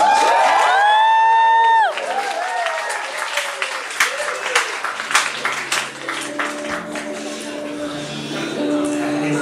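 A loud voice calls out over a concert crowd, welcoming a singer, then a large audience claps and cheers continuously, with scattered whoops rising from the crowd.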